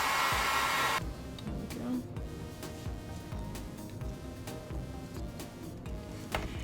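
A heat gun blows loudly on scraps of Worbla thermoplastic, giving a steady, close airy roar, with faint tapping and handling noises underneath and no talk.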